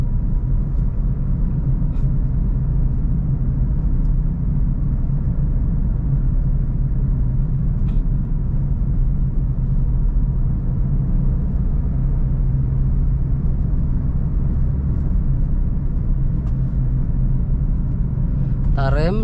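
Car rolling steadily in fourth gear on a regional road, a constant loud low rumble of engine and tyres from inside the cabin with a voice talking over it.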